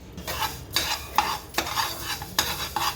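Coriander seeds dry roasting in a pan for gurellu powder, stirred in repeated dry scraping strokes with light rattling of seeds against metal, close and fairly loud, with no talk.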